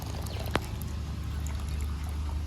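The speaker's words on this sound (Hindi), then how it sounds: "ये पानी भी ऐड कर देते हैं।" Warm water is poured into a cooking pot that still holds a little spinach puree. It makes a steady, soft, continuous rush of water with a faint clink near the start, close by, with no talking.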